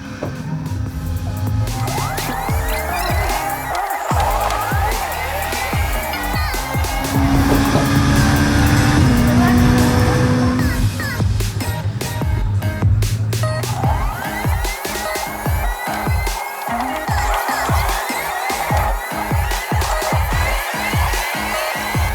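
Race cars in a racing simulator video game roar continuously and loudly, engines revving up and down through gear shifts, with fluttering, sputtering passes and tire noise and no talk.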